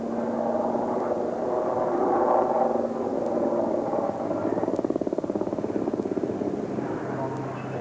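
A Rooivalk attack helicopter's steady rotor drone fills the air at an air show, with a rhythmic chopping pulse growing stronger partway through; no voices.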